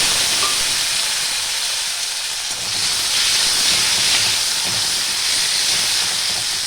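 Chopped tomatoes hitting hot oil in a pan for a Bengali rui fish mustard curry, giving a loud, steady, broad hiss of sizzling that holds throughout without talk.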